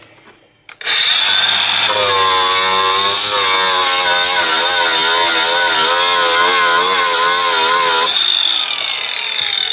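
A power tool grinds loudly and steadily on a moped fuel tank, throwing sparks, its pitch wavering as pressure on the metal shifts; a brief spin-up at the start, then continuous harsh whine until it winds down near the end.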